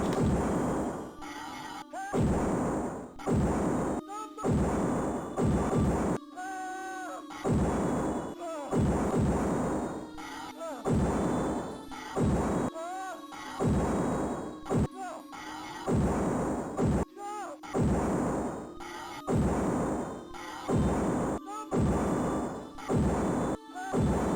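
Repeated loud blasts of gunfire ring out as a man gets shot in the TurboGrafx-16 game It Came From the Desert, bursts arriving in a steady rhythm with short gaps for most of the stretch.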